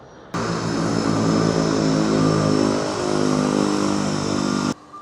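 A loud, steady Twin Otter propeller aircraft drone starts abruptly and holds close by, a dense buzzing engine roar with a slight swell midway, at a remote Arctic village.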